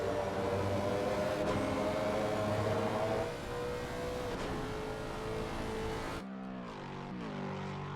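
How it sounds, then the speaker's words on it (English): A loud V8 race car engine roars steadily during a GT3 race, its pitch shifting as it revs and drops near the end, with no voices. "It certainly sounds like it has a V8 in it."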